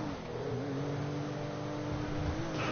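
Modded car engine in GTA 5 revving with a steady, continuous drone, moderately loud and close, with a sustained tonal hum throughout and no talking.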